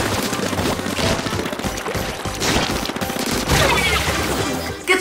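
Ink weapons fire in Splatoon 2 during a Splatfest match, with dense, rapid splattering shots running almost continuously and loud, mixed with busy game sounds.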